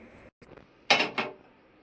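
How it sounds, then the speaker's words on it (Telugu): Clay griddle (penka) set down on a kitchen stove: a short clatter of ceramic on metal, two quick knocks close by, with no talk. "ఇప్పుడైతే పెంక పెట్టుకుంటా"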